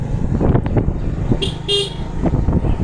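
A car horn toots twice in quick succession from a vehicle on a road near a bridge in rural Bangladesh, loud against steady engine and traffic rumble.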